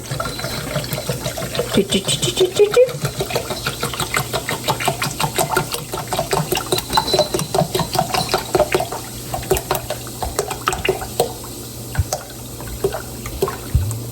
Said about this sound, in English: And we're just going to pour that in there.